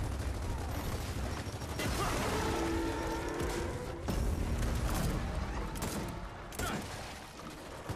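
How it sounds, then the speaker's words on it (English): Gears of War 4 combat with a thrown grenade amid heavy gunfire, dense overlapping bursts and blasts filling the clip at a fairly low level, with repeated sharp impacts and no clear pause. "toss a grenade at this guy"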